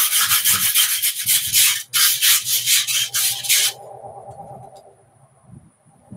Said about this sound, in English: The scale is hell on a grinding belt.